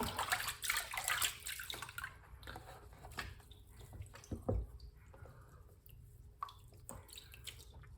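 Water swishes and splashes as material is rinsed in a pan at a creek, loud and sloshing at first and then easing into scattered drips and light splashes, fairly close.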